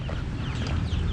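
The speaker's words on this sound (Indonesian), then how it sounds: "Kita ngomong bebeknya malah berisik." Ducks quack in a noisy cluster close by near a railway level crossing, their calls blending into a rough outdoor din.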